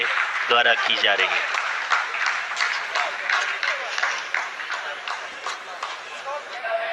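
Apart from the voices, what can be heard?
applause from scientists in the control room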